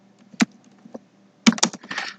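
Isolated keystrokes on a computer keyboard, a single sharp click, a softer tap, then a quick burst of several clicks close to the mic in a quiet room.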